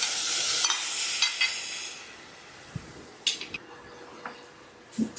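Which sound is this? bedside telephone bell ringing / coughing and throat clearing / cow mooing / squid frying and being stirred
squid frying and being stirred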